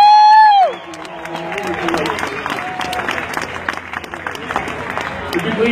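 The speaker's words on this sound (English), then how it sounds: "give her an extended round of your applause" Audience at a Renaissance festival show breaks into sustained applause with some cheering and crowd babble, following a brief tonal sound at the start, steady and fairly loud throughout.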